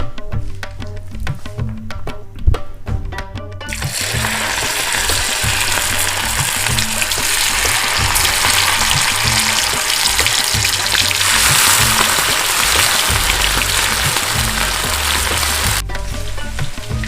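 Marinated chicken kabab pieces, leg pieces among them, sizzle loudly in hot oil, with a steady close crackle and hiss. A few clinks sound at the start, then the frying runs continuously, with no talk.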